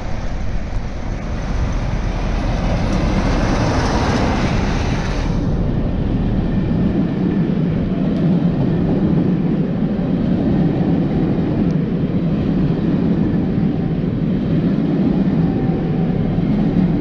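A continuous loud rumble of an eight-carriage train running near Vauxhall and London Waterloo, steady throughout, with the hiss of motion fading partway through.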